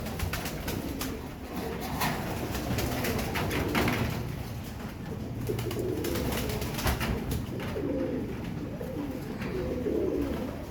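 Pigeons coo softly and repeatedly at close range, low murmuring calls overlapping in a steady chorus with faint background noise and no talking.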